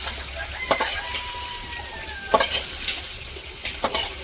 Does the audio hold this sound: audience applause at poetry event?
no